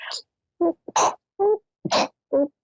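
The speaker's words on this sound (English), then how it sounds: "I think I'm going to sneeze." A person sneezes several times in quick succession, short sharp bursts close to the microphone with brief gasps between them.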